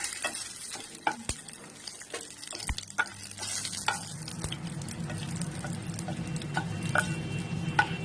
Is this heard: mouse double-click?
no